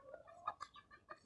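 Chickens clucking in a backyard garden among plants and trees, several short close clucks scattered over a moment with quiet gaps between them.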